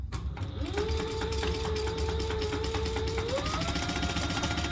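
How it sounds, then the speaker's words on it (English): A sewing machine runs steadily, top stitching a 1/8 inch seam along the bottom of a tote bag, a close, continuous motor whir with a rapid needle rhythm and a small pitch step near the end. "I am gonna top stitch this"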